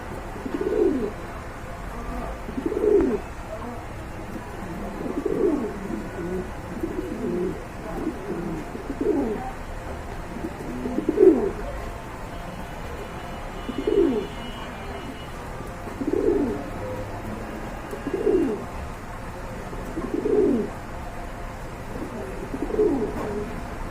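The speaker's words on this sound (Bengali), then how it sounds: "এক জোড়া মোরাসলাদ কবুতর দেখতে পাচ্ছেন এখানে" A pair of uncommon pigeons for sale coos in a slow, steady series of soft, low calls, each repeated every couple of seconds, close by and with no talk over them.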